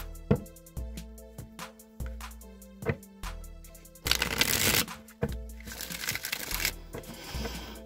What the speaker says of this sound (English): I'm going to go ahead and shuffle the Rider-Waite deck